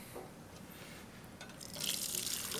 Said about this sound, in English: So we're just gonna pour it slow because it's hot, so we need to be careful and pour it nice and slow.